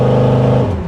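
A 1950 GMC 3100 pickup truck with a built-up engine revs hard under throttle, a loud, close, deep engine roar that settles slightly toward the end of the short burst, with no one talking.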